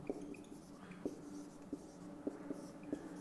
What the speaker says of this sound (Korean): 스펜타 마이뉴 써보겠습니다.